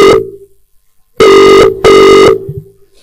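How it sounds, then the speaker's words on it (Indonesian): A telephone rings during a cultural oration at a commemorative gathering, giving two loud, sustained electronic ringing tones after one brief earlier tone, with quiet room sound between them. "Telepon."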